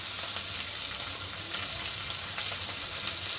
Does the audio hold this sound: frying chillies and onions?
yes